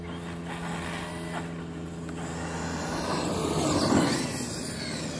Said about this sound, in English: I have got to change the gear. It sounds so terrible.